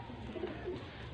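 Show pigeons of the dabba breed coo softly and steadily, with a low, rounded burbling that stays close and continuous for about a second, with no talk.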